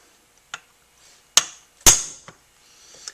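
A hammer drives a punch against a pin on an AR-15 rifle during a free-float quad rail install: two loud, sharp metallic whacks close together, with a few lighter taps before and after, close up and with no talking.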